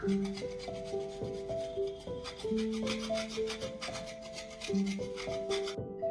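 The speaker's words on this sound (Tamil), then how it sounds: "இப்போ நம்ம இந்த சீஸை கிரேட் பண்ணி பீஸா ஃபுல்லாக ஸ்ப்ரெட் ஓவர் பண்ணி விட்டுக்கலாம்." Cheese being grated over a chicken cheese pizza: steady, rhythmic rasping strokes, fairly close, running under melodic background music.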